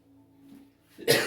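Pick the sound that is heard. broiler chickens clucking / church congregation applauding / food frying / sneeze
sneeze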